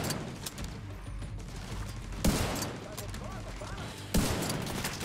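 Gunfire rattles in the video game Tom Clancy's The Division 2, with two sharp loud bursts standing out over a dense, busy bed of combat noise.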